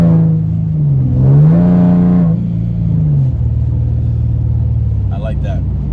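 A Nissan 370Z with OBX long tube headers and a straight-piped exhaust revs loudly nearby, rising and falling twice before settling into a deep steady drone, with a brief clatter at the end.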